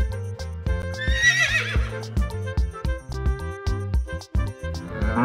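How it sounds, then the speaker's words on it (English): A horse whinnies in a rising, quavering neigh near the start, heard alone over a steady backing of children's music. "Horse."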